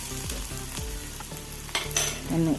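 Chopped onion frying in coconut oil gives a close, crackling sizzle broken by several spatula stirs and clanks against the pan, with a louder scrape near the end.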